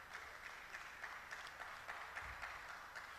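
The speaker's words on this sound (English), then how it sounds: "another round of applause for him" Faint applause from a symposium audience on GMO foods honouring a professor after his presentation, a steady distant patter of clapping heard at low level without talk.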